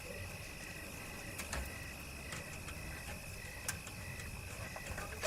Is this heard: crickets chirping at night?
yes